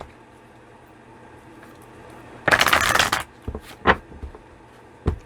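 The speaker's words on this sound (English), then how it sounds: "let's grab 2 shuffles" A deck of tarot cards shuffled once in a quick riffling burst, followed by a few softer card snaps and taps, close and fairly loud.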